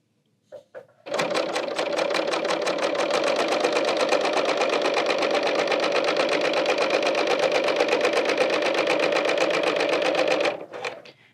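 A Bernina L890 serger stitches fabric in a circle, a fast, even mechanical whirr running steadily for about ten seconds after a few short starting clicks, then stopping abruptly.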